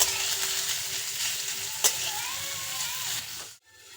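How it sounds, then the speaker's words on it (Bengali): Two large chopped onions fry in the same oil used for garlic, browning for a cabbage vorta, a steady close sizzle with a single sharp clink midway before the sound cuts off abruptly; no voices. "ওই তেলের মধ্যেই দিয়ে দেব 2টো বড় সাইজের পেঁয়াজ কুচি। পেঁয়াজটাকেও লাল করে ভেজে নিয়ে তুলে নেব।"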